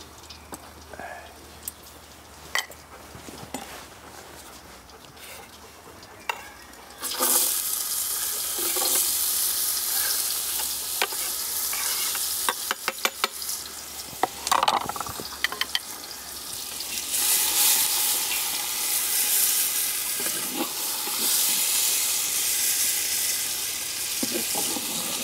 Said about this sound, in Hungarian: abba fogom lepirítani a hagymát